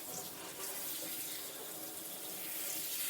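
Water runs from a tap onto a hand, a steady close hiss and splash with no break for the whole stretch.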